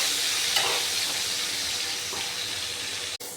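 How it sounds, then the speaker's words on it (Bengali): Chicken pieces fry lightly with salt and turmeric in a pan, giving a steady close sizzle throughout, with a brief knock near the end. "একটু হালকা ভেজে নেব।"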